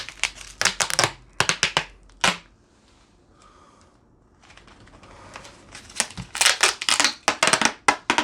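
Tape being pulled and pressed along a foam sword blade, with the thumb guiding it: close bursts of crinkly, tearing rasps in quick clusters, a quieter pause in the middle, then dense repeated strips of sound again.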